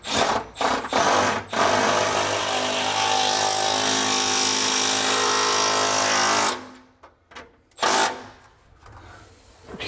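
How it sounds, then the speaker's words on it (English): A Milwaukee M12 SDS hammer drill runs loudly and steadily for about six seconds, then cuts off, followed by a few short bursts of drilling. "See how awesome the SDS drill is."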